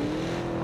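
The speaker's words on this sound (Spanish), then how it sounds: "Voy a hacer ruidos con el coche." A car engine in the game PUBG hums steadily and loudly throughout a brief moment, a sustained motor drone with no other sounds.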